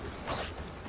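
A weapon reload in the sci-fi shooter Warframe, one short mechanical clack and rattle of metal parts, quiet and close, with no speech.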